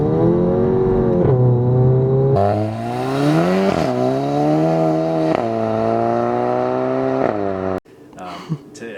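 Revving VW MK7 GTI fitted with a catless downpipe exhaust, a loud, steady engine note that rises and falls through several rev swings, ending abruptly with a short crackle.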